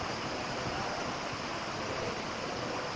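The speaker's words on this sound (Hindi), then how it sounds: "अभी थोड़ी बूंदाबांदी है" Light drizzle of rain falls as a steady, even hiss that holds unchanged throughout, with no voices and no distinct drops standing out.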